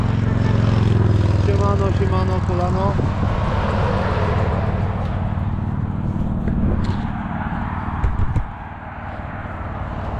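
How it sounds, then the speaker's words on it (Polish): A Yamaha MT-10 1000cc motorcycle exhaust drones in a steady, low, throaty tone close by. It is loud at first and eases off toward the end, under a man's casual greeting. "Posłucham jak ten wydech chodzi."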